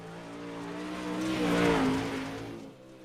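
A modified touring race car laps Cedar Lake Speedway in a racing game, its engine a steady harmonic drone that swells and shifts pitch mid-run before easing off, with no voices present.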